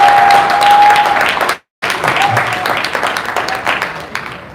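A convention crowd applauds, loud dense clapping that cuts out for a moment in a brief gap, then resumes and carries on steadily.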